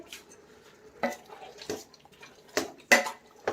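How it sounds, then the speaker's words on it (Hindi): A spoon stirs tomatoes, vegetables and spices in a metal pot for a temple-style Annakut sabzi, giving a few distinct clanks and scrapes against the pot with quiet pauses between them. "सारी सब्जियों को अच्छे से मिक्स करेंगे"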